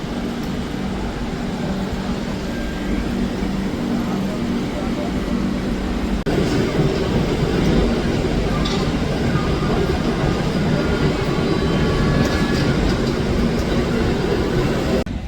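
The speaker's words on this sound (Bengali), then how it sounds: "ওই দিক থেকে ঢুকছে এখন যোধপুর হাওড়া এক্সপ্রেস" The Jodhpur-Howrah Express rolls into a station with a loud, continuous rumble that swells partway through, while voices murmur faintly in the background.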